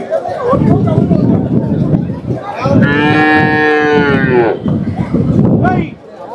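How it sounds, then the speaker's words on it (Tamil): Native cattle mooing at the Kundadam cattle market, Kangeyam breed, with one long, loud harmonic moo standing out over steady crowd chatter and background murmur. "குண்டடம் மாடு சந்தையில் இந்த வாரம் நிறைய நாட்டு மாடுகள் வந்திருக்குதுங்க"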